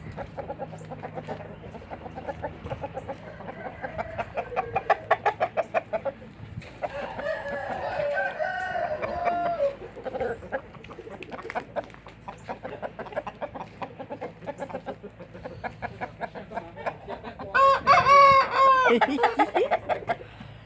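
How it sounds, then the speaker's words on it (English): Roosters crow repeatedly outdoors, several long cock-a-doodle-doo calls spread across the stretch, one especially loud and near toward the end, with clucking fowl and occasional faint voices in between. "The three big rooster, they like out in the sun"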